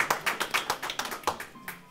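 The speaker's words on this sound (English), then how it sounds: "let's hear it for them as well" Applause from a congregation during a worship service, a quick cluster of close hand claps in an uneven rhythm, fairly loud and alone with no talking.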